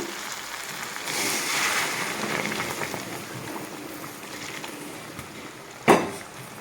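Boiled water being poured into a pan of mutton curry (Bengali doi mutton) after the spiced meat has been fried down until the oil separates; a steady watery hiss and splash builds, then a sharp knock near the end.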